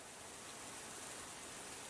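Steady, dense hiss of rain falling, even and continuous with no other sounds.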